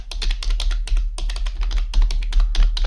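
Rapid clicking of Mitsumi KFK-EA4SA mechanical keyboard keys, close and crisp, pressed in quick irregular bursts with short pauses.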